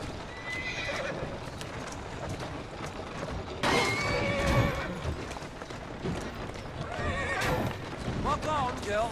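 A horse trots with rhythmic clip-clop hoofbeats and whinnies several times, close by, while a person speaks over the steady footfalls.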